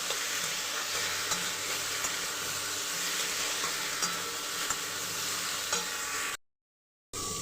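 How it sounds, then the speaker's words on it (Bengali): A fish curry with ridge gourd and potato is stirred in a pan over a continuous loud sizzle, with stirring scrapes throughout, and the sound cuts out abruptly near the end. "এইভাবে কিছুক্ষণ নাড়াচাড়া করে নিতে হবে"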